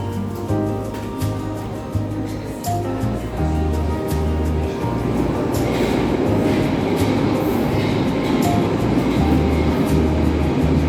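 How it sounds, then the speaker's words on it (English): A Moscow metro train rolls past a station below a viewpoint, with rhythmic clattering wheels over the rails and a loud, rising rumble that builds as it passes. "You can even watch the trains from above here."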